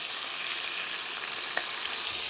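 Boiled cauliflower florets frying in a pan with a pinch of sugar, a steady close sizzle and crackle of hot oil running throughout with a faint tap near the middle.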